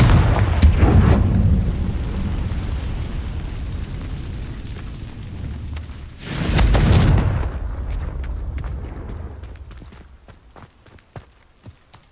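Loud fiery blasts of the Confringo fire spell in the Hogwarts Legacy video game, a heavy booming burst near the start and another around six seconds, with rumbling game ambience and scattered sharp ticks fading out afterward.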